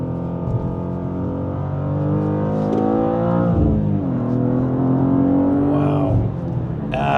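A 473-hp 2025 BMW M2 with a manual gearbox sounds off close up: a sustained engine note, a quick rev-matched blip on the downshift, then a rising acceleration tone.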